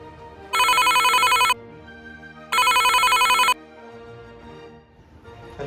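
A telephone rings twice in long electronic bursts, each about a second, separated by a pause, loud and close, with faint background noise between rings.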